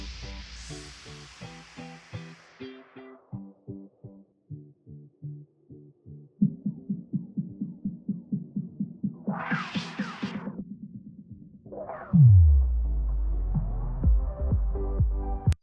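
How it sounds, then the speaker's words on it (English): Muffled game audio passed through a Unity low-pass filter set to a 5000 cutoff, heard as dull rhythmic thumps and tones with a few brighter swells, ending in a low rumbling sweep. "an audio low pass filter. And this can make it sound like we're actually listening for something in another room"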